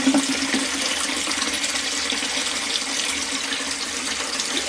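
Tap water running steadily into a basin of poached chicken to cool it, a continuous rushing splash at moderate level with no talk.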